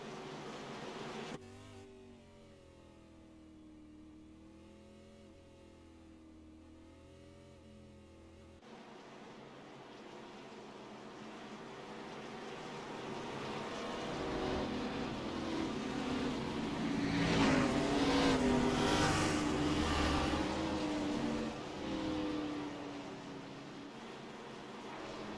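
Race cars running a warm-up lap at North Wilkesboro Speedway, a low engine drone that starts faint after a short musical passage and swells to a louder pass before easing, heard from a distance.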